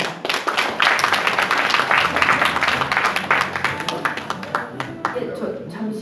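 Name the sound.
audience applause welcoming lecturer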